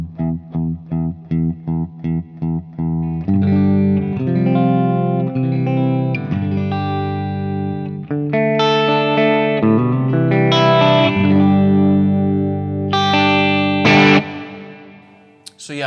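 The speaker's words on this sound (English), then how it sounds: "Really nice clean sounding amplifier." Electric guitar played through a Fractal Audio FM9 modelling a JTM45 amp on a clean setting, opening with evenly spaced short chords, then ringing sustained chords and arpeggiated notes with effects, loud and close with no talking.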